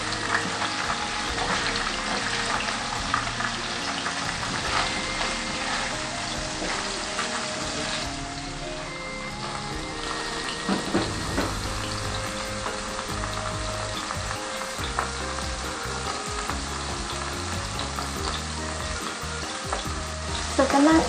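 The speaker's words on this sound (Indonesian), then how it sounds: "Ini aku gorengnya pakai minyak sedikit saja ya guys." Tofu frying in a small amount of oil in a wok, a steady close sizzle and crackle that runs unbroken throughout, with occasional stirring and scraping noises over the top.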